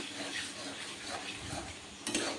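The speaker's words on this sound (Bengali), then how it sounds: "মশলাটা এইভাবে কষে নিতে হবে" Spice paste with a whole green chilli and a splash of water stirred and fried in a pan, giving a steady close scrape and soft sizzle with a sharper clatter near the end.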